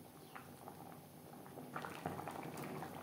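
Fish curry gravy with fried fish and fish heads simmering in a pot, a quiet continuous bubbling hiss with small pops that grows slightly busier toward the end.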